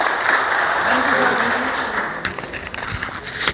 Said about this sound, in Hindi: जोरदार तालियां एक बार साहब के लिए।